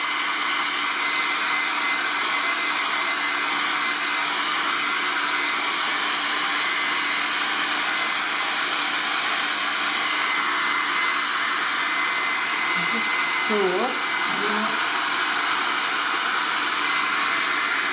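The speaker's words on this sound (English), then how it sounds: "Right, with the hairdryer." A hair dryer blows steadily and loudly over a watercolour painting throughout, a constant airy roar with no breaks.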